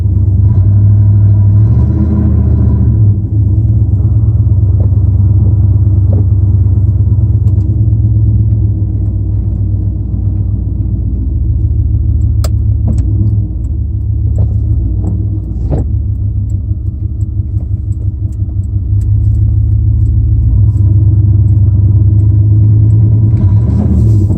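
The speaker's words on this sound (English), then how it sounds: "So if I hit the gas a little harder, truck kicks out a little bit." Pickup truck with a Powertrax No-Slip locker, driven in two-wheel drive on snow: a loud, steady engine drone and rumble that swells as the gas is pressed, tires spinning, with no talk.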